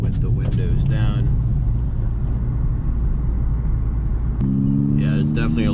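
A 2019 Hyundai Veloster R-Spec engine drones steadily and loudly from inside the cabin with the windows down, its low rumble rising to a firmer harmonic tone near the end as people talk over it.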